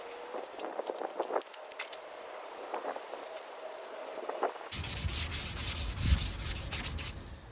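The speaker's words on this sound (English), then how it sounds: "There, I sanded it, block sanded it with 320 grit" A sanding block with 320-grit paper rubs over spot putty on a John Deere LA165 lawn tractor, giving repeated close scratchy back-and-forth strokes that grow louder and harsher toward the end.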